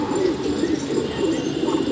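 Pigeons coo in a steady, repeated low rumble that continues throughout, fairly close and clear, with no talking over it.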